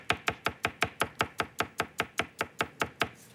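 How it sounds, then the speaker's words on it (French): A knife chops heart of palm into a fine brunoise on a board, about fifteen quick, evenly spaced taps that are crisp and close, with no voices. "Donc là, vous le faites en petite brunoise."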